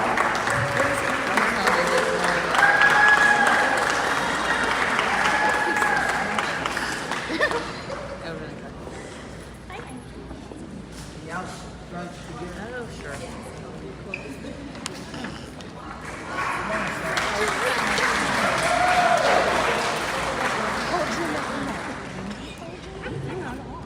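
A school crowd applauds newly introduced staff, with sustained clapping that dips midway and swells again, mixed with crowd murmur and some voices under it.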